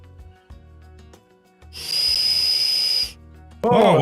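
A police-style copper's whistle blows once, a loud, steady, piercing tone held for over a second, with clicks and tool noises before and a sharp rising squeal right after.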